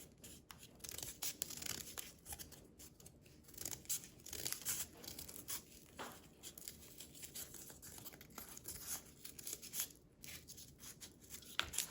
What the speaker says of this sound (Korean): 이렇게 붙여주시고 그 모양에 따라서 이렇게 잘라주세요